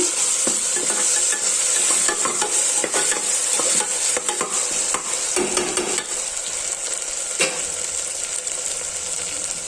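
Ginger garlic paste fries in a pan for a curry, a loud continuous sizzle with busy stirring scrapes and occasional sharp clinks of the spoon, with no one speaking.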